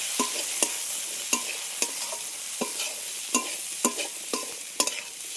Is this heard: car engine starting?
no